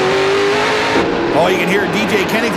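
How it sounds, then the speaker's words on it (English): A Dodge stock car on the 2008 Kodak 250 racing circuit spins its tires coming off a corner, a loud, close revving engine note rising over a commentator's voice. "that Dodge car, he's spinning the tires up off the corner"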